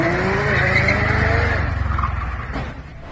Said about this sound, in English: Someone tries to show off by speeding and instantly wrecks.